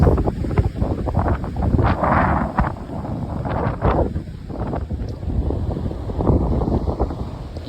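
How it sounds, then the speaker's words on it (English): Strong wind buffets the microphone in steady gusts near Seldovia, Alaska, with the rumble of a boat moving over open water. "It's windy."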